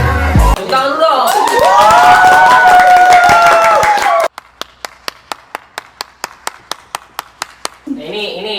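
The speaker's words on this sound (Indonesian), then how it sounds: "Tepuk tangan dulu dong." A crowd claps and cheers loudly at first, with voices mixed in. Then it settles into a slow, steady run of single hand claps, about a dozen evenly spaced beats, before talk returns.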